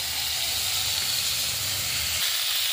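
Steady, loud hissing sizzle of potatoes frying in oil in a pan, continuous and unbroken throughout.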